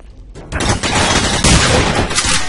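Rapid gunfire in The Hidden video game, a loud dense burst of repeated shots fired close, running continuously for a couple of seconds with no talk over it.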